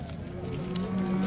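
A cow at a livestock market moos in a long, low, drawn-out call that rises and holds steady, heard close and clear over the market's background murmur.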